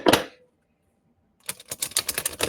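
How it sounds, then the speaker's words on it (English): Tarot cards being shuffled close up, a quick riffle, then a pause, then a longer run of crisp rapid flicks and taps. "Let me shuffle a little bit more for us."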